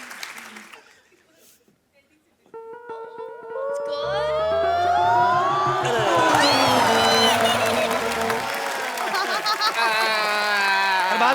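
Applause and cheering from a studio audience on The Kapil Sharma Show rise after a quiet start into a loud, sustained roar, with music playing over it.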